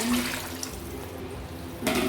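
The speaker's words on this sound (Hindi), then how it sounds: "हम इसके अंदर 4 गिलास जो है वो पानी ऐड करेंगे" Four glasses of water pour into a kadai holding one kilogram of chicken for yakhni pulao, a close, continuous splashing gush with a fresh surge near the end.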